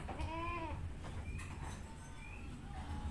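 Two-month-old Etawa (PE) goat kids, young future bucks, call from a pen: one clear nearby bleat early on, then fainter, shorter bleats over barnyard background noise.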